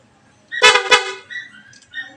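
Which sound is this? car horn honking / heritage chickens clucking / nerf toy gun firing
car horn honking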